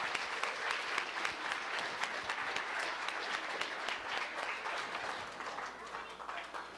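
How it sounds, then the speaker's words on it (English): An audience at a university chemistry demo night claps for the presenting team. The clapping is faint and distant, with distinct individual claps inside a steady patter. "Please give them a round of applause again"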